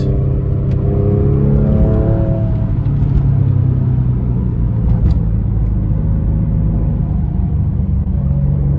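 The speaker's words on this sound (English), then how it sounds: "Oh, dude, I love the exhaust." A sports car engine's deep exhaust rumble fills the clip, steady and loud, swelling briefly as if revving, with continuous low drone throughout.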